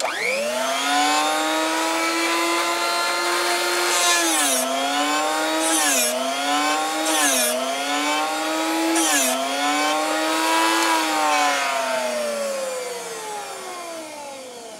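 A Drill Doctor sharpener grinds the point of a drill bit with a loud, steady motor whine that dips in pitch several times as the bit bears on the wheel, then recovers. No one speaks.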